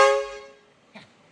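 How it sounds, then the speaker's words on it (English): An air horn sounded at a car show, one loud blaring tonal blast that cuts off quickly, followed by a short faint thump. "somebody had an air horn"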